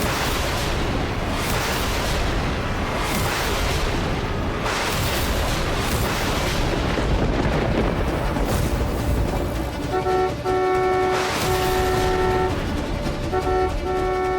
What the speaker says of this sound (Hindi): तुम्हें हॉर्न की आवाज क्यों नहीं आ रही है?